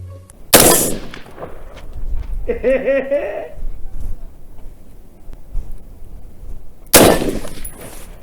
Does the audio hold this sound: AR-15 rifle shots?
yes